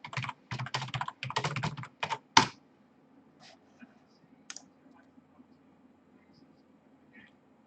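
Quick bursts of computer keyboard typing as a question is entered, close and crisp, then a final key press followed by near silence with a few faint clicks.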